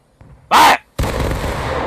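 In the Civil War game War of Rights, a short shouted command is followed by an infantry volley, a loud burst of many muskets firing almost at once that rolls into a sustained, echoing crackle.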